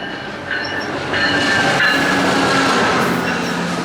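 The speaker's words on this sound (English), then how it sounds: "That is not our train." A VIA Rail-area train rumbles past close by in Quebec, a steady loud roar of rolling wagons with faint wheel squeals rising over the noise.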